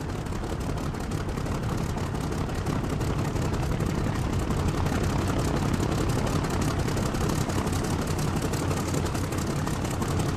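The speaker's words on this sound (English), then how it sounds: "The plane has stopped. A successful landing." A fixed-wing plane in War Thunder rolls down the runway after landing and brakes to a stop, with a steady, loud engine drone and low rumble that holds unbroken from start to end.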